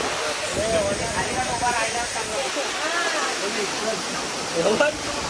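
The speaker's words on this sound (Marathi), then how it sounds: "बघा पाणी बघा पाणी बघा" Rushing stream water near the Ekvira temple: a steady broadband wash of flowing water, close and continuous, with voices and crowd chatter faintly mixed in.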